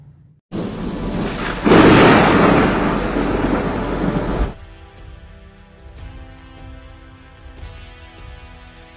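Heavy overnight rain pours down in Nanded, India, a loud, dense hiss that swells for a few seconds and then drops to a softer, steady patter with faint tonal hum beneath.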